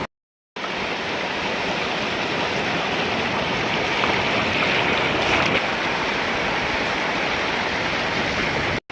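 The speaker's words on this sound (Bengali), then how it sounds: "আর ওইখানে ট্রলার চলছে।" Sea waves rushing and a distant trawler boat running offshore blend into a loud, continuous broadband roar that starts abruptly and holds steady to the end.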